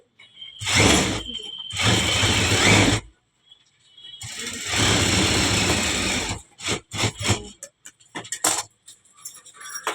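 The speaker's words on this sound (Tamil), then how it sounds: "நம்ம இப்போ எட்ஜு தையல் போட்டுட்டோம்" Sewing machine running bursts of stitching along the edge of a silk cotton lining, loud whirring runs of one to two seconds separated by pauses, then short clicks and handling noises.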